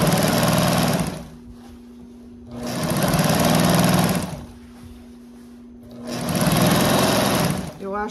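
A sewing machine runs a gathering row of stitches on fabric for a water jug cover, three loud close bursts of steady whirring separated by short pauses.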